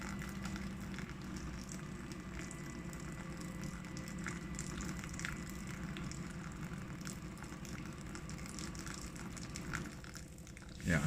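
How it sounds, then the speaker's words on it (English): An Osmio Zero tap pours filtered boiling water into a large pasta pan on a kitchen counter, giving a steady, close gushing and hissing stream that continues unbroken throughout. "the water's being filtered and boiled to 100 degrees straight into the pan"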